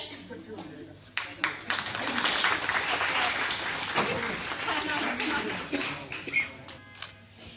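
An audience at an awareness programme event claps for a prize winner, a few sharp claps swelling into a steady burst of applause, then trailing off into scattered claps, with a voice speaking over it.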